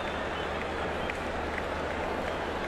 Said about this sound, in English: that's brought the loudest cheer of the day